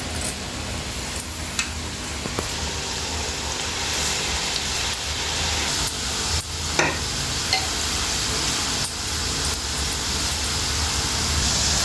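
Small rice flour murukulu fry in a shallow layer of oil, giving a steady, close sizzle and crackle that fills the whole stretch, with a few faint clicks and taps and no speech.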